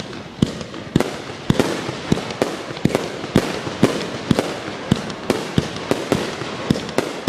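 Fireworks show in 2013: a rapid series of sharp booming bursts, roughly a dozen loud cracks at uneven intervals over a continuous crackling fizz, with no talking.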